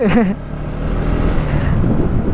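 Road traffic on a busy street in India, heard as a steady, loud engine and tyre rumble close by with wind noise on the microphone, plus a brief rising horn-like tone at the start.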